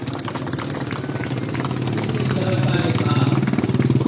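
A motorcycle engine runs steadily at an army stunt show, its rumble swelling louder and rougher over a few seconds amid the broad noise of an outdoor crowd and public-address talk.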